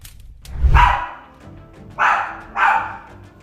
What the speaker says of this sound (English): if they are barking with this much focus and intensity, you should be concerned